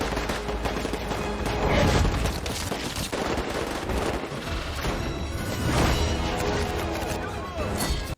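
Rapid gunfire and crashing impacts from a Moon Knight episode clatter in dense bursts over a busy soundtrack, loud and sustained throughout.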